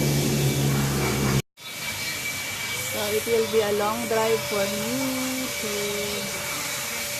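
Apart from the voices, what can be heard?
vacuum cleaner cleaning car interior at car wash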